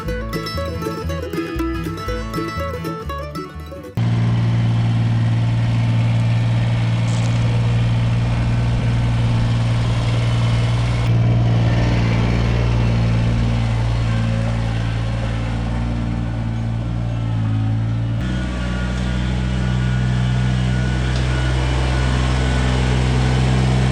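A Kubota BX2380 compact tractor engine runs steadily in a pole barn, a loud constant low drone with no talk, preceded by a few seconds of music.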